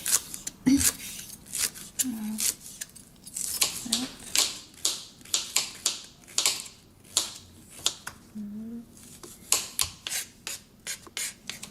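A knife slices a carrot into small rounds on a cutting board, giving a regular series of crisp chops and thuds, close and clear, while people talk at moments in between.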